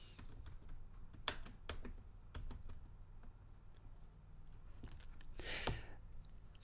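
A keyboard is typed on in short irregular bursts of soft, quick clicks, close and quiet, with a couple of brief louder thumps and a breathy rustle between.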